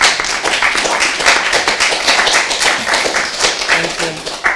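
An audience claps after a poem reading at a whiskey and poetry salon in Vienna, producing a brisk, fairly loud patter of hands that runs continuously and fades slightly near the end.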